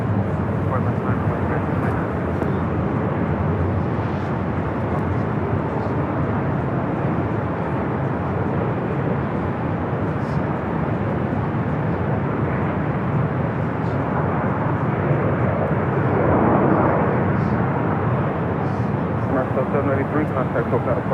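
A Boeing Dreamliner airliner arrives from Paris at LAX, its jet roar a sustained broad rumble that swells slightly toward the end, with people talking intermittently over it.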